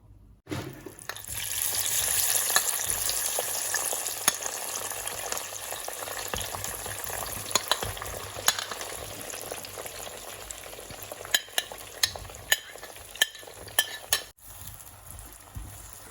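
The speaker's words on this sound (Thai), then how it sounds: "ทอดพริกหวานแล้วก็หัวหอมต่อนะคะ นี่ทอดไม่นานนะคะ" Bell peppers and onions fry in a pan of hot oil with a steady close sizzle, joined later by a series of sharp metallic clicks from a utensil against the pan.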